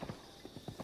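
A horse's hooves in Zelda: Breath of the Wild make a quick run of clip-clop steps on the ground, close and moderately loud.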